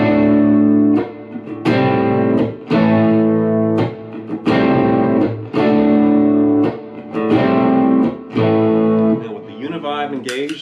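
Clean, unprocessed electric guitar plays a repeating riff, loud and close, in several phrase-length bursts with short gaps, ending in a brief scratchy flourish.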